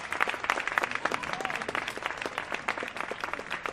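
A wrestling crowd applauds Evolution with sustained dense clapping, steady and fairly close throughout, a brief cheer riding over the claps.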